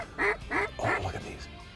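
Ducks calling over an oat field during a hunt: three quick nasal quacks in a short, even rhythm, fairly close but soft.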